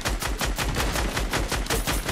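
Rapid automatic gunfire in the Fortnite video game, a loud, continuous burst of evenly spaced shots lasting a couple of seconds with no talking.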